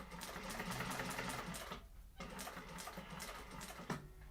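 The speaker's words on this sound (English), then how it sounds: "you can do your handle stitching" A sewing machine stitches a bag handle in quick, even bursts, pausing briefly midway before starting again, close and steady at low volume.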